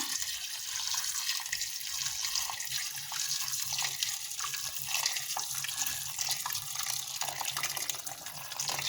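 Water pours steadily into a cooking pot while making an Asian fish soup, a continuous close splashing fill with a rushing, tap-like hiss that holds evenly throughout with no talking.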